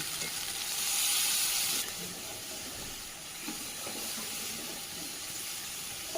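Water hits well-cooked sizzling masala in a pan during a paneer recipe, with a brief surge of hissing steam at first, then a softer, steady bubbling sizzle.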